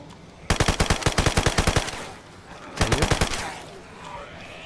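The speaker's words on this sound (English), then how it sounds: "Is that you shooting?" Two bursts of automatic gunfire in the DayZ video game, a rapid string of evenly spaced shots followed after a pause by a shorter burst, loud and close with no voices.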